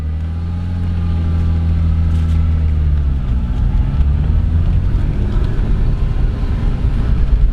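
A BMW E36 pulling away on a short drive, the engine droning low and steady and then rising into a rougher, louder rumble as it gets moving, close and continuous with no talk.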